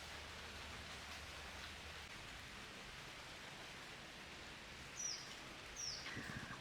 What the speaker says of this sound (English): the rain was so loud that you could hear it on the microphone